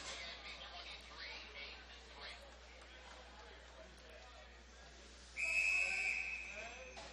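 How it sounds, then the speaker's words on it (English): A referee's shrill whistle sounds at a women's ice hockey game in an arena, a single sharp, sustained blast cutting through crowd murmur and rink noise, with a commentator talking throughout. "We get a whistle here"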